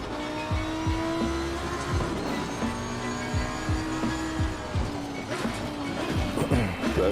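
Race car in Assetto Corsa Competizione braking hard and downshifting at Silverstone, loud engine with repeated rapid blips dropping through the gears and some tire squeal.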